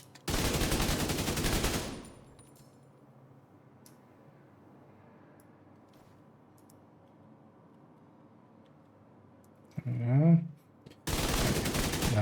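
TKB rifle fire in a video game: a loud, dense burst of rapid shots opens, followed by a long quiet stretch with a brief voice near the end, then another sharp burst of shots closes.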